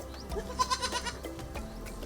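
Goats on a farm give several short, fairly faint bleats in quick succession against a quiet background.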